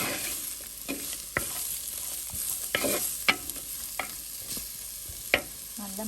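Mango pieces are stirred in a frying pan with fenugreek powder for a dry prawn and mango curry: soft sizzling under a series of sharp spoon scrapes and clacks against the pan, close and fairly quiet.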